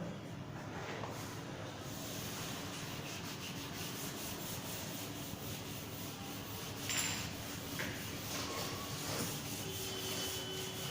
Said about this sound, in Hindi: इसको रब कर रहा हूं मैं।